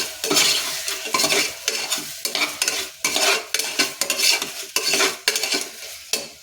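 Tomatoes and vegetables sautéing with salt in a pan for vegetable biryani, with steady close sizzling broken by repeated bursts of stirring and scraping that come roughly every half second, loud and near with no voices.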